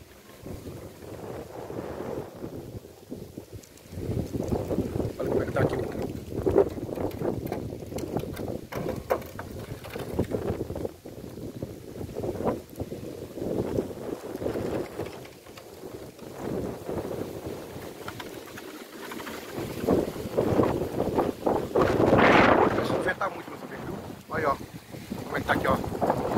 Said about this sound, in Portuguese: Olha o vento aqui.